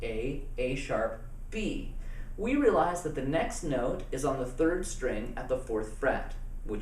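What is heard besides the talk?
None of the usual background noises is heard.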